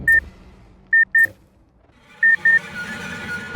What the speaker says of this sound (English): The timer ticked down.